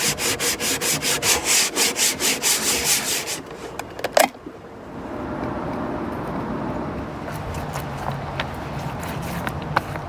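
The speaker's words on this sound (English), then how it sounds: "Seats need a bit of a paint, so I'm going to give them a quick sand and paint." Rhythmic back-and-forth sanding strokes rub against narrowboat seats, loud and close for about four seconds, then a sharp knock and a softer, steadier scraping hum continue through the rest.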